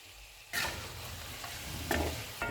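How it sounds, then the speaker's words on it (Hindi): Mutton with yogurt, black pepper and cumin powder sizzles loudly in a pot as it is stirred, steady frying hiss broken by a few scraping strokes of the spoon, with no talk. "अब इसको भून लेंगे।"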